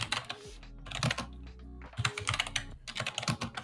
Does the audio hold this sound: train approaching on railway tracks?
no